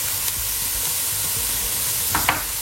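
Ginger going into a hot pan for a quick fish curry, heard as a steady, loud frying sizzle and hiss throughout, with a couple of faint soft stirring knocks.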